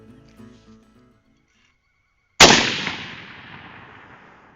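A single loud .223 rifle shot at a coyote cracks out suddenly after a faint, quiet lead-in, then its boom rolls away in a long decaying echo across open ground.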